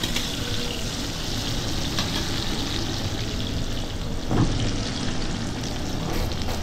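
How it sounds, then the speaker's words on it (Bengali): Soft, steady sizzling of capsicum frying in a pan for fried rice, with a brief scraping stir partway through. "ক্যাপসিকাম দেওয়ার পরে ক্যাপসিকামটা একটু ভালো করে ভেজে নিতে হবে।"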